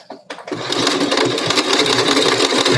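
A sewing machine stitches a mask seam about a quarter inch in, running in one loud, steady whirring burst after a couple of short starts, with no talk.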